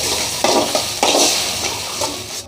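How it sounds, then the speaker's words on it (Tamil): A spoon stirs tamarind kuzhambu with sautéed onions and added tamarind water in a pan, several soft scraping strokes over a steady low simmer, close by, with no talk. "மிக்ஸ் பண்ணிடலாம்"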